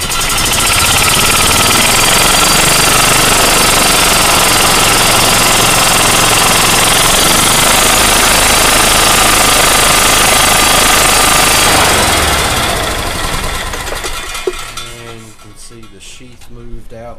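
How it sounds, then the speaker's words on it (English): A golf cart motor runs loudly and steadily with a new front and rear clutch fitted, the wheels spinning, before the sound drops off near the end and leaves a quieter, fainter tail. "Moved out and in good, and we had some action going on back here with the wheels spinning."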